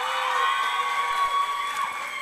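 An event audience applauds and cheers for a nurse honoree at an awards evening, a broad crowd roar with whoops and shouts that holds steadily through the short stretch.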